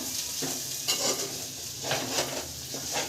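Chicken frying in oil in a pan, a steady close sizzle with stirring scrapes and utensil clinks against the pan recurring through it, no voices.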